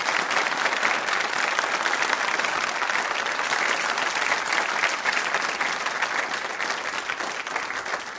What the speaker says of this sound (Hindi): तालियां जोरों से बजाइए अपने लिए आप।